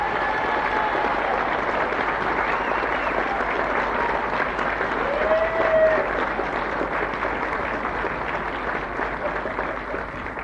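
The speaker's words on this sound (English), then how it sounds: "what about the warmest round of applause possible for them?" Warm, steady crowd applause at a weekly live variety show, a broad continuous patter of many hands holding at a fairly even level throughout, with faint murmurs mixed in.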